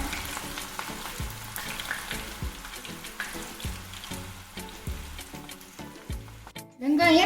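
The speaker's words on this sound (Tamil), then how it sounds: "வெங்காயத்தெல்லாம் பொரிச்சிடலாம். நல்லா ப்ரௌனாக பொரிச்சிருங்க." Sliced onions fry in hot oil for biryani, a steady dense sizzle running throughout with occasional spoon scrapes against the pan, ending in a brief louder clatter.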